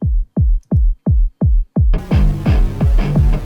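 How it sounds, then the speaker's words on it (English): A deep, boomy neurofunk kick drum thumps steadily, about three hits per second, its tone muffled and filtered at first, then opening up brighter as a fuller mix joins in. "kick drum sound."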